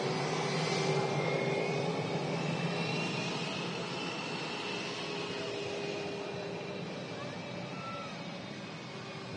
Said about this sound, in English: IAE engines on board this A320.